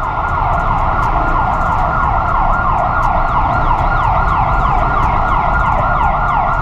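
An ambulance siren wails in a steady, rapidly repeating up-and-down sweep, loud and close, as the ambulance moves through street traffic beside a Honda PCX 160 scooter.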